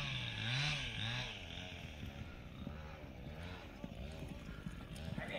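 A spirited horse's hooves clop steadily at a Kyrgyz training run, with a whinny early on and a constant blur of voices and engine-like background noise throughout.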